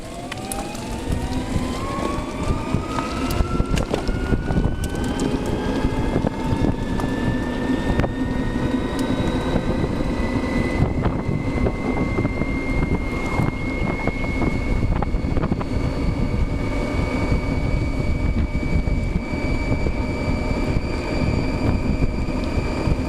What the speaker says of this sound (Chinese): 即摆来要做起步加速，来互大家看卖啊乔登200系统的